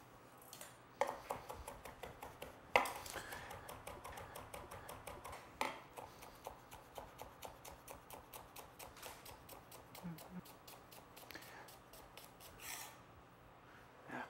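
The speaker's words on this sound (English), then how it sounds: "So I'm just going to coarsely chop all this" A knife coarsely chops fresh mint, cilantro and scallion on a cutting board, giving a long run of quick, steady, close taps with a few louder knocks near the start.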